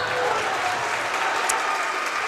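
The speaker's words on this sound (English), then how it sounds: "Napoleon's crowd starting to get into the game a little bit" Home crowd at a Napoleon high school boys basketball game cheering and clapping in a gym, a steady, dense roar of applause and voices with one brief sharp whistle partway through.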